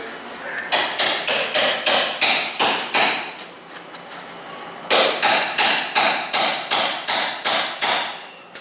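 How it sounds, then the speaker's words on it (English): Hammer striking a metal punch to line up a bolt on an aftermarket roll cage fitted to a Honda Talon side-by-side, two bursts of about eight sharp, loud ringing blows in a steady rhythm, close to the mic, with a short pause between the bursts. "we still had to use the punch, well, a couple different punches and a hammer to get her to line up"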